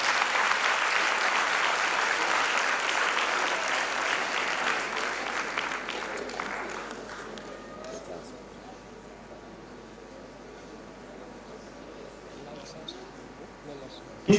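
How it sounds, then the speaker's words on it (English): Sustained audience applause in a conference hall at a West African education conference in Freetown, Sierra Leone, dense and loud for about seven seconds and then thinning to scattered claps and room noise. "A big round of applause."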